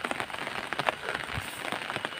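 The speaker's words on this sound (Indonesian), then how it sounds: "Cuaca lagi gerimis nih" Light drizzle falls on surfaces around an abandoned colonial-style house in a Sumedang village, a soft continuous patter of small crackling drops with no talking.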